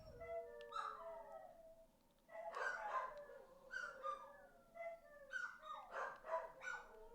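Dogs in the video game Kitaria Fables bark and whimper in repeated short bursts, several barks overlapping in clusters at a moderate, steady level with no talking.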